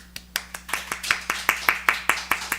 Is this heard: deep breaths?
no